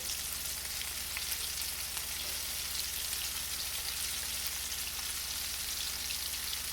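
Onion rings fry steadily in hot grease, a dense, even crackling sizzle held close and constant throughout with no talk.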